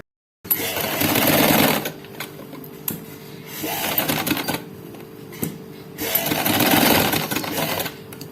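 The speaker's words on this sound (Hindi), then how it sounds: "अब ये सारे को मैं सिलाई लगा के तो आपको दिखाती हूँ।" A sewing machine stitches fabric in rapid, close, rattling runs. Two long loud bursts are separated by quieter stop-start stitching and clicks.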